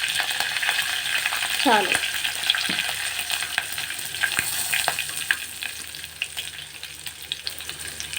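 Curry leaves and asafoetida crackling in hot oil for tempering, a steady close sizzle throughout with a brief spoken word partway through.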